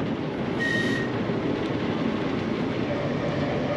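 A Manx Electric Railway tram runs the line between Douglas and Ramsey, heading down the long descent toward Laxey, a steady close rumble of wheels and carriage with a short high squeal near the start.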